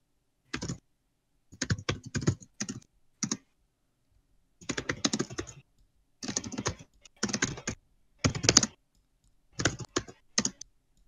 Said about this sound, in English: I heard you typing some things.